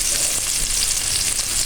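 Marinated meat being stirred into a pan of frying kaldereta with carrots and potatoes, a loud, close, steady hissing sizzle with faint mixing scrapes and no speech.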